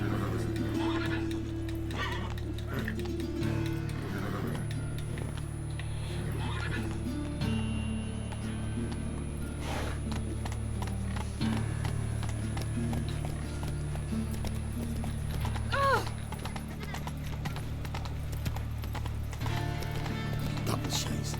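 The horse Roach gallops in The Witcher 3, its hooves giving a steady, rapid clip-clop beneath game music, with a voice talking over it.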